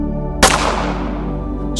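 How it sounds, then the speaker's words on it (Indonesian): A single loud gunshot-like blast rings out, its bright crack decaying slowly over about a second and a half beneath a steady low drone, with the next sound beginning at the very end. "Suara tembakan."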